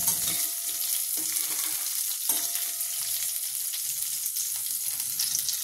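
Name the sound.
sautéing curry leaves and green chillies in oil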